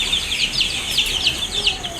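Young Fayoumi chicks peep in a quick run of high, thin chirps, several calls overlapping at close range against a soft background hiss.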